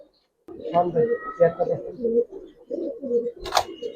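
Giribaz and coloring pigeons coo at close range in a loft, a run of low throaty burbling calls in short repeated phrases, with a sharper sound near the end.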